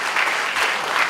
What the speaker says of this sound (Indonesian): boleh kita beri tepuk tangan meriah untuk Bapak Daniel Wijaya.